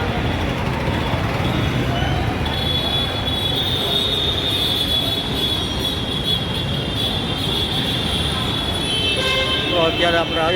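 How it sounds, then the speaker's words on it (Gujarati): At Kalupur railway station in Ahmedabad, train wheels screech in a long, loud, high squeal as rail cars roll through. A brief horn-like toot follows near the end, and voices talk underneath. "અત્યારે આપણે આવી ગયા છીએ કાલુપુર રેલવે સ્ટેશન."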